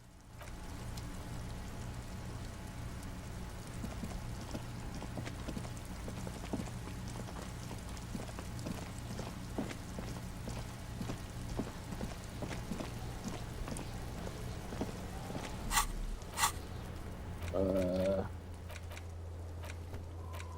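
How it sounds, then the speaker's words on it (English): Video game rain on the way to Le Royaume falls as a soft, steady patter with a low ambient hum, faint and continuous, broken near the end by a few brief sharper sounds. "This rain will not let up anytime soon."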